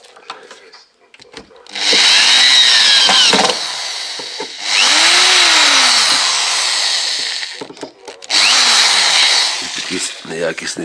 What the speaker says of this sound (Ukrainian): Вставляємо шурупи.